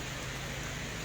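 Heavy rain pouring down in a steady, dense hiss that fills the air, loud and continuous with no gaps and no voices.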